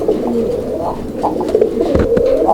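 Fancy pigeons at a pigeon farm coo softly and repeatedly at close range, low throaty calls over a faint background murmur.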